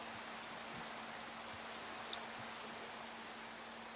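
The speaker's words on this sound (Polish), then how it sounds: "Zastanawiałem się, dlaczego właśnie tutaj często pada deszcz." Rain in the Minecraft video game falls as a steady, soft hiss, with a constant low hum underneath and no talk.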